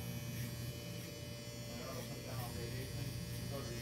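An electric hair trimmer buzzes steadily while cutting hair during a fade, a close, continuous motor hum that fills the whole stretch with no pauses.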